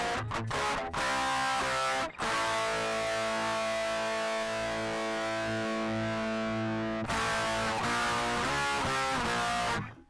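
Electric guitar played through an IK Multimedia X-Drive digital distortion pedal on orange tones: heavily distorted sustained chords ringing out after a few quick strums, cut off and struck again near the end.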